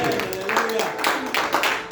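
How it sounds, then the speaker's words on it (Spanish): A church congregation clapping hands in praise, a steady run of broadband claps rising in bursts, with a voice and sustained tones carrying underneath. "¿Por qué no le da palmas al Señor?"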